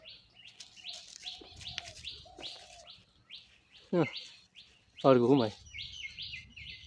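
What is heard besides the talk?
pet pigeons cooing and chirping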